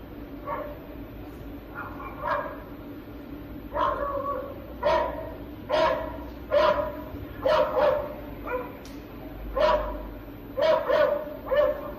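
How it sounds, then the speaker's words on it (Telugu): Several street dogs bark in short repeated bursts during an attack on an elderly woman outdoors, the barks and yelps coming in uneven clusters over a steady background hum. "ఓ వృద్ధురాలిపై వీధి కుక్కలు దాడి చేశాయి"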